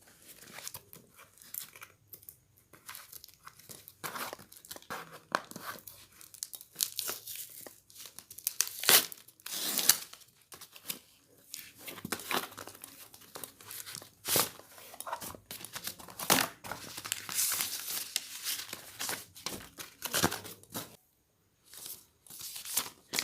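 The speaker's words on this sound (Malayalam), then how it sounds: "അപ്പോൾ നമുക്കിത് അൺബോക്സ് ചെയ്ത് നോക്കാം." Packaging of a Boat power bank is torn open and crumpled during unboxing, giving close, fairly quiet bursts of crinkling and ripping plastic and paper that come and go irregularly with brief pauses, without speech.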